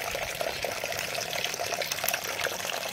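Rasam drains through a strainer in a brief, steady liquid trickle and splash, close up and moderately quiet, with no one talking.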